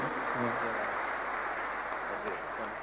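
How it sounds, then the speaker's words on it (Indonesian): An audience claps for a provincial governor and vice governor at a religious gathering, a dense steady burst of applause lasting a few seconds, loud and close with a murmur of voices mixed in. "berikan tepuk tangan untuk Pak Gub dan Pak Wagub"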